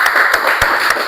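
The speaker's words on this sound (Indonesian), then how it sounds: "mari sama-sama kita berikan tepuk tangan kepada kelompok 1" Clapping from a classroom audience for a group that has just finished its presentation, a short burst of dense hand claps close by, with no talk over it.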